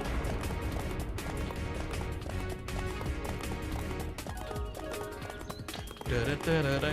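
Quick, steady hoofbeats of a galloping horse in the video game Samurai Warriors 2 HD Ver., over a busy musical backdrop, with a louder swell near the end.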